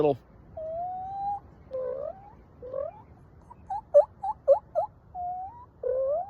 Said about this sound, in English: You'd be surprised at how far away they can hear real soft clucks and purrs.